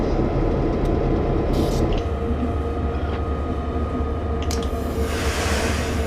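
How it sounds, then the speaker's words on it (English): An EMD F7 locomotive set accelerates down a hill, a steady low rumble and rolling rail noise with faint squeaks and clicks, continuous and fairly loud throughout. "I can't seem to stop this train from accelerating"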